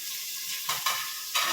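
Onions and vegetables hit hot oil with cumin in a home kitchen pan, a bright hissing sizzle that swells in three quick surges, close and with no voice.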